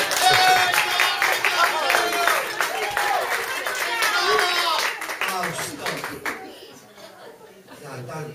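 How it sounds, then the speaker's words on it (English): An audience at an amateur theatre awards evening claps and chatters while someone talks over the noise, the scattered clapping fading out toward the end. "Thanks for that applause."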